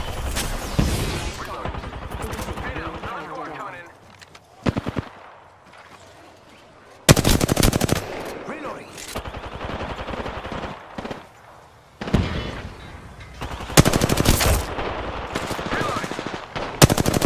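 Automatic gunfire in the video game Apex Legends comes in loud, close bursts of rapid shots with quieter gaps between them, mixed with scattered single shots and game noise.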